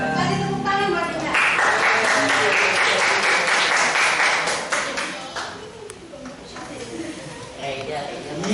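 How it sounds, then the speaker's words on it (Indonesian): A classroom of students claps for a classmate during a maths lesson: loud, close, dense clapping for about five seconds that then thins out, with voices chatting over it. "Kasih tepuk tangan buat Dinda."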